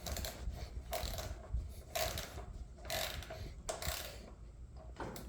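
Ratchet tightening the front wheel bolt on a BMW R1100 R motorcycle, giving a few separate bursts of quick clicking strokes at close range, quiet and with no talk.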